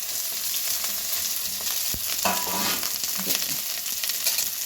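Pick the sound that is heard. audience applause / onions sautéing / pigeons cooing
onions sautéing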